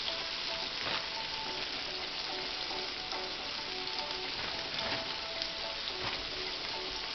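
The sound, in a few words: fried chicken frying in oil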